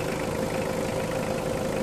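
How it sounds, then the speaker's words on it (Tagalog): Secondhand Mitsubishi Adventure engine, previously misfiring and prone to overheating, now idling smoothly with a steady, even hum and no audible stumbles. "Tumining na yung makina niya."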